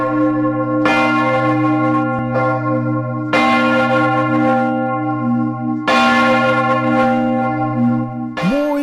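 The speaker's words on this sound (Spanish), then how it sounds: "esas campanas nos avisan que estamos en el momento de conocer la historia de nuestra iglesia" Church bells ring out loud and close in a steady, overlapping peal, the strokes blending into a sustained resonant wash with fresh strikes every few seconds and no voices.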